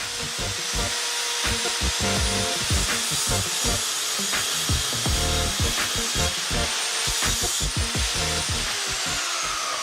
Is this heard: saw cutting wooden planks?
yes